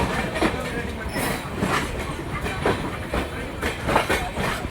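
A newly modified orange Vande Bharat train rolling along, with rhythmic clickety-clack of wheels over rail joints and a steady rumble, heard close from on board.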